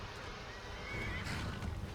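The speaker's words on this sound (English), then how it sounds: "And there's a horse fighting." Horse neighing in the Skyrim video game, a clear whinny rising midway over a steady low background hum with faint hoof clatter, heard alone without talk.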